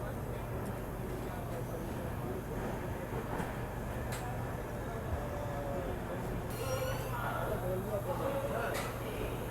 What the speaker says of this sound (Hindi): ये रही वो डबल डेकर ट्रेन